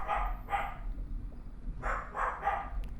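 A dog barks repeatedly nearby, two sharp barks followed after a pause by a quick run of three more, over a low steady hum.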